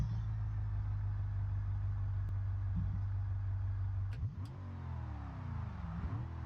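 A V8 police car in the video game BeamNG.drive idles with a low, steady hum. The engine then fires up and revs sharply, with rising and falling engine tones, heard alone and up close.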